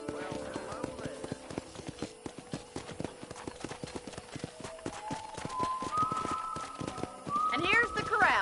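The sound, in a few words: horses clip-clopping, from a video game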